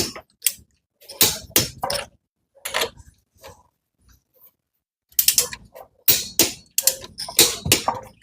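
A torque wrench set to 80 foot-pounds tightening wheel lug nuts gives sharp mechanical clicks and ratcheting, close and loud, in separate bursts with short silent gaps between them.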